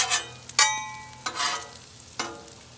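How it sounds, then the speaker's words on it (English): Onions frying in bacon grease on a Blackstone griddle with a soft, steady sizzle, broken by three sharp scrapes of a spatula across the flat top. "I'll slide some of that bacon grease back towards the middle here. Let those onions sit in it too."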